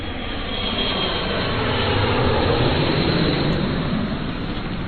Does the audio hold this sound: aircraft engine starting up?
yes